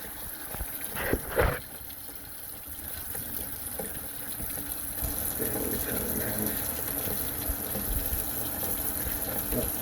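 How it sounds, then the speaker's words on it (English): A knife is rinsed under a running kitchen tap while sushi is being prepared, a steady rushing stream with a couple of brief clatters near the start, the flow growing fuller and continuous afterward. "Now the knife is rinsed off again."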